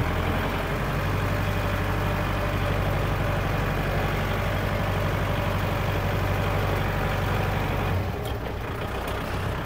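A Kubota L5018 tractor engine running steadily in first gear, a loud, close, rumbling diesel drone with a rhythmic low throb that shifts slightly near the end.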